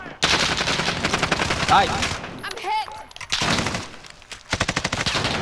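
Rapid bursts of shotgun and automatic gunfire in Call of Duty: Modern Warfare, loud and close, with a short echoing gap midway and a brief shout from a player.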